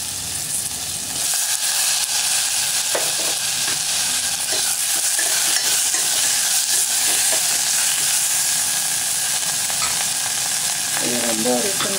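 Onion and tomato sizzle loudly in hot oil in a pan for cabbage sambar, a dense continuous frying hiss with occasional stirring scrapes, close and steady, no voices.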